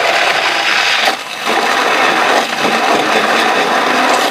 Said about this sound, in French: tu prends ton mixeur, attention, ça va être cœur